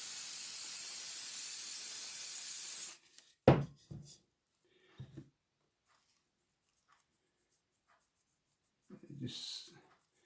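An aerosol spray hisses steadily and loudly for about three seconds onto tree scenery on a model train layout, followed by a few sharp knocks and soft rustles, then quiet.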